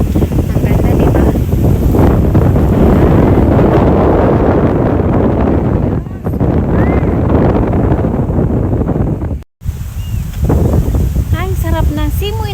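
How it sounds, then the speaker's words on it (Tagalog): Strong wind rushes steadily against the microphone at a scenic spot in Corpus Christi, Texas, a dull buffeting roar, with a faint voice briefly audible near the end. "Ay, sarap ng simoy ng hangin,"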